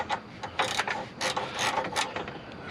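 A hand ratchet with a 10 mm socket snugs down a bolt on a Honda CR-V AC compressor, giving quick bursts of close, quiet clicking that stop and restart several times.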